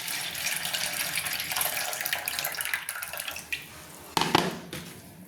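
Water pours and splashes into a bowl of flattened rice as it is rinsed while making chire pulao. The flow is steady and close, then briefly louder splashes near the end.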